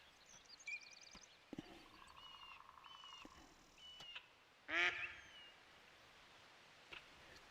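A duck-hunting video game scene with a level 3 golden-eyed duck: scattered faint bird chirps and calls, then one loud, close quack about midway, followed by quieter calls.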